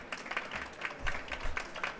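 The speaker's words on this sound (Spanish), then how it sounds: "un fuerte aplauso para ella" An audience at an open-innovation maker league event in Sant Feliu applauds a woman who has been filming, a moderate, uneven patter of claps with some low rumble underneath.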